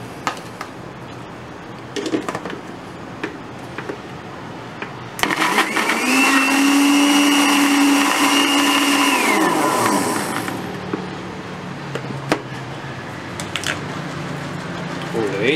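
A blender whirs loudly for several seconds, mixing pancake batter with egg, after quieter kitchen handling; people talk before and after the steady motor run.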